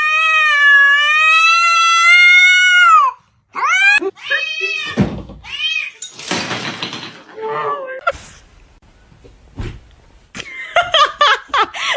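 A kitten meows in a long, close, wavering cry, followed by shorter meows mixed with people laughing and talking excitedly nearby.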